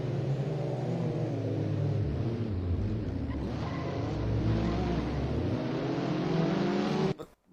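A race car in the VSR Rookie event at Magione, its engine droning loudly and steadily with shifting pitch as it accelerates through gears, cut off abruptly near the end, no voices.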